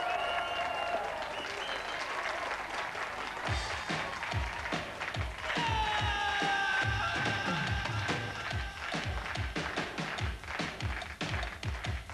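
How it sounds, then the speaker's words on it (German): Loud audience applause with dense clapping that swells and carries on steadily, with some whistles and cheering ringing out over the crowd. "Empfangt also meine lieben Freunde mit viel Applaus."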